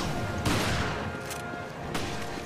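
Gunfire in the video game Resident Evil Revelations: a couple of sharp, fairly loud shots over a steady noisy game background with no talking.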